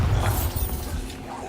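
A Bombarda blast spell going off in Hogwarts Legacy: one loud, booming burst with a crashing, shattering edge at the start that rumbles and trails off over the next second.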